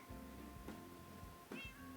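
A Minecraft cat meows twice in a quiet scene, soft near calls spaced apart over a low steady drone.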